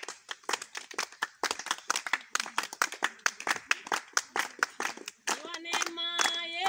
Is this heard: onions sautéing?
no